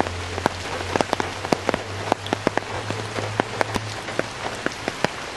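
Heavy rain pours steadily during a flood after hours of downpour, a dense continuous hiss with sharp individual drops pattering nearby, alone with no voices.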